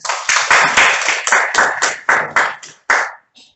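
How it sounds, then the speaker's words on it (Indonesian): An audience applauds the first presenter at a presentation session with a short burst of close, sharp hand claps that thins out into a few scattered claps before stopping. "Saya berikan aplaus buat pemateri pertama"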